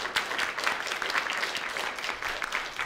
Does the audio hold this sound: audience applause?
yes